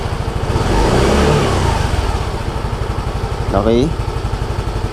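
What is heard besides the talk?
Yamaha Mio Gear 125 motorcycle engine revving and idling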